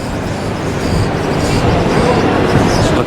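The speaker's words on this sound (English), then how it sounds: "all the trains coming in and get the people" Steady rumbling rail noise of trains moving through a station at Citi Field, New York, a broad continuous roar with faint metallic hiss on top.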